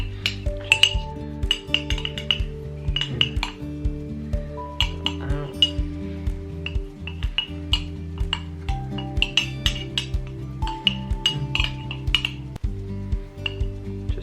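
A metal spoon clinks and taps against a ceramic mug while pizza dough is spread inside it, a steady run of bright, close knocks over a faint background tone.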